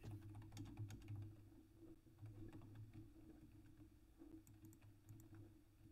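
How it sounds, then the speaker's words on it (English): Faint keyboard typing comes through online voice chat during a Bedwars game: scattered quick clicks and short bursts of keystrokes over a low steady hum, with no talking. "I hear typing from Drift."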